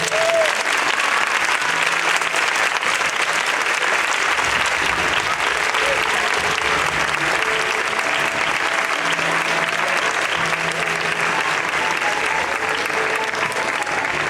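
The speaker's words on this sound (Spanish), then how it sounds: "Un gran aplauso para Leticia, por favor." Sustained applause from a crowd at a primary school graduation ceremony in Vigo, Spain, steady and dense throughout, with some faint voices mixed in.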